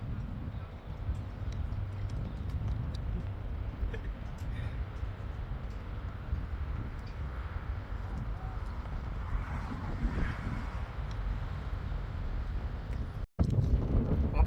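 Wind buffets an outdoor microphone on a morning in Cologne, Germany, a steady low rumble lasting throughout with a brief dropout near the end.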